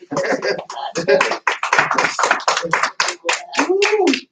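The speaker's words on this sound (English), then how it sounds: "Come on, get a hand clap." Church congregation clapping at a morning service, sharp hand claps scattered under loud, continuous talking or chanting from a nearby voice.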